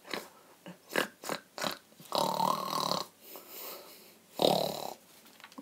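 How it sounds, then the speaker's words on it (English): Several snoring snorts in an irregular rhythm, short ones at first then two long, loud rasping snores, close by with no talking. "Can everyone stop snoring?"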